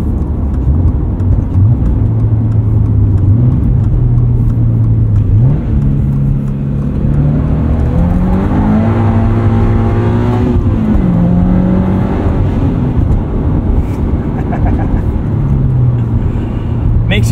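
A Subaru BRZ with a catted UEL header and Falken Winterpeak F-ice 1 winter tires drones loudly and steadily while driving, its engine pitch rising and falling through the gears from inside the cabin, with talking over it.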